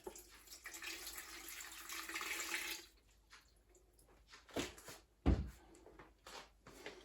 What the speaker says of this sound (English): Now I'm going to put a pint of cold water in there.